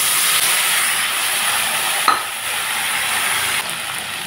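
Boiled chickpeas and potatoes fry in mustard oil with cumin, giving a steady, close sizzle that fills the whole stretch, with one small clink of a utensil partway through.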